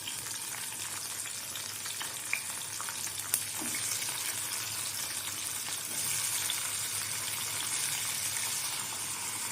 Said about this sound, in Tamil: இப்போ வந்து தக்காளி ஓரளவு நல்லா வதங்கட்டும்